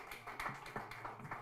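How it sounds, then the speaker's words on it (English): A round of applause at a consultative workshop, a faint, sparse patter of individual claps from a small seated group. "A better round of applause for her."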